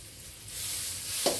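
Butter, about 25 grams, melting on low heat in a pan, giving a soft steady sizzle that swells slightly, with a brief clink near the end.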